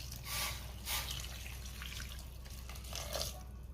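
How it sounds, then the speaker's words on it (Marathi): Hot water is poured into rice for pulao, a faint, soft trickle and splash at close range in a quiet kitchen, with no speech. "आता आपल्याला ह्यामध्ये पाणी घालायचंय।"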